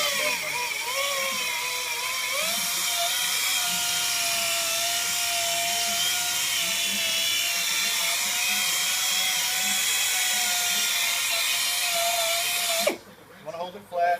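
A power drill buffing a car headlight with polishing compound runs with a steady high whine and droning hum for about thirteen seconds, then cuts off abruptly; a voice talks faintly under it.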